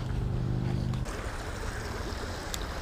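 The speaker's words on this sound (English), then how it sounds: "A little bit of a waterfall there." A small waterfall on a creek rushes as a steady broadband roar, close and continuous, with a low hum at first that then drops away.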